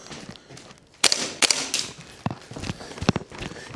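A WellPro PPK-20 gas blowback airsoft rifle fires on semi-auto, with about half a dozen sharp, snappy shots at irregular intervals, each with a quick mechanical clack, heard close and loud.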